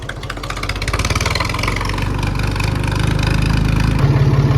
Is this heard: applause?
no